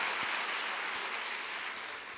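Audience applause at a TEMA Foundation 30th anniversary event, a continuous wash of clapping that holds steady and fades slightly toward the end.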